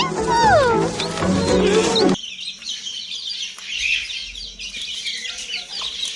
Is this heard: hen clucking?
yes